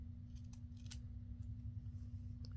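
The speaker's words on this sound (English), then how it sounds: "And then I can cut the end off of this one some." Scissors snip the end off a piece of junk journal material, a few soft, quick cuts close by over a steady low hum.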